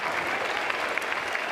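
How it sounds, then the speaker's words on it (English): Crowd clapping at a college baseball game, a dense sustained patter of hands with a few sharper claps standing out, steady in level throughout. "Yeah, nice round of applause from Morris."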